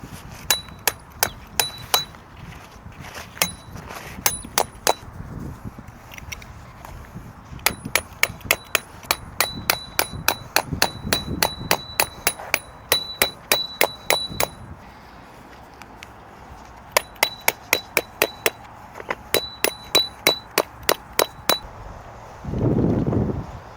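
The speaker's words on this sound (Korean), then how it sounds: "여기도 팩을 하나 박아 줄게요" A metal tent peg is hammered into the ground while a Snow Peak Living Shell Pro is pitched, with clusters of sharp ringing clinks in steady rhythm, paused between strike series, close and fairly loud.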